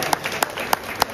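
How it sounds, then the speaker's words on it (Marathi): Four distinct, evenly spaced claps ring out at a devotional performance, sharp and close over a faint background, sounding like a rhythmic lead-in to applause for the performers. "एकदा जोरदार तुमच्या आशीर्वाद रूपी टाळ्या आम्हा सर्व कलाकारांसाठी होऊन जाऊ दे."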